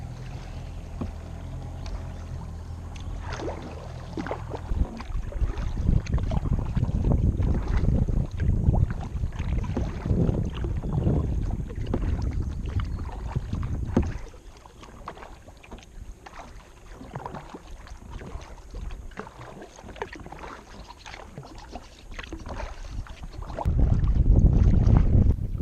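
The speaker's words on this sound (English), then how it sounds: "there is some wind out there" Wind buffets a kayak on Cass Lake, making a gusty low rumble against the microphone. Occasional paddle splashes and water sloshes rise and fall over about 25 seconds, with no voices.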